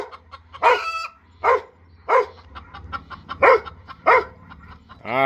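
A dog named Duchess barks in sharp single woofs spaced about a second apart, close and loud, with chickens clucking faintly in the background on a farm by a duck pond.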